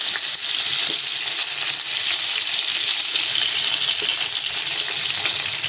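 Food pieces fry one at a time in a pan, giving a steady, close, bright sizzling hiss that holds evenly throughout.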